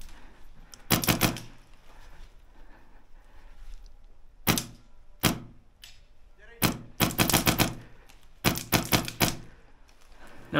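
Airsoft gun firing BBs during a skirmish, heard as several separate bursts of sharp rapid clicking snaps with short pauses between them, fairly close and loud over faint outdoor background.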